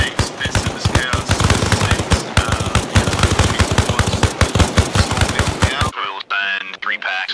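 Machine gun fire in the military game Arma Reforger: loud, close, sustained rapid bursts for about six seconds, then fainter distant shots with voices over radio chatter.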